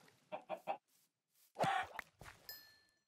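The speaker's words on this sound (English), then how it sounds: "while you chase the chickens" Minecraft chickens cluck in short bursts, a few quick clucks then a louder squawk, with soft breathy sounds and a faint chime in between.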